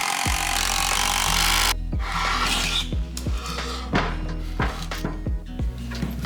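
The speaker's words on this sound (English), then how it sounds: "So 3 to 4 screws per leg should do it. My wife hates these drills." Cordless drill driving screws into pallet wood, a series of short whirring bursts in a steady rhythm, close and loud, with grinding bites as each screw seats.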